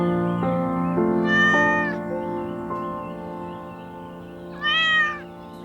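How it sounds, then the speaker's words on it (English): A Siamese cat gives several loud, drawn-out meows close by, with a long call early on and a sharper rising one near the end. "Siamese cats are renowned for their ability to communicate vocally"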